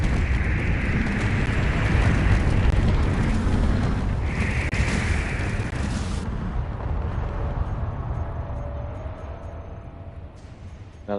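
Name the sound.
explosion of ships battling in the video game Space Engineers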